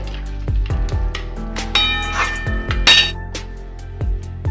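A cooking pot of fish-head muri ghonto is lifted off the heat and emptied, giving a few close metallic clinks and knocks with a faint sizzle in between.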